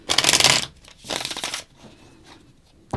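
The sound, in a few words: shuffling tarot cards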